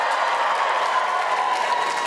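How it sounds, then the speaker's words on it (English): Comedy show audience at the Apollo cheering and applauding, a broad steady roar of crowd noise filling the whole moment without a break. "Give me a cheer,"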